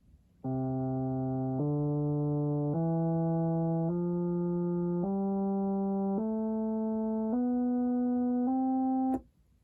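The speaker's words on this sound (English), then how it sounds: "we've set the trombone waveform with the attack cut off so that we hear more of a steady tone" A Korg wavestate synthesizer plays a trombone waveform with its attack cut off, eight steady brass-like notes climbing a major scale, each held about a second, ending with a short click.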